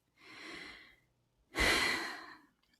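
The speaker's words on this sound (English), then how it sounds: "take 3 deep breaths" Two deep breaths taken slowly and alone, a long inhale followed by a fuller, louder exhale after a short pause, close and clear.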